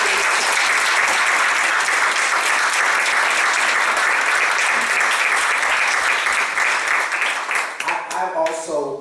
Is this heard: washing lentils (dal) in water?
no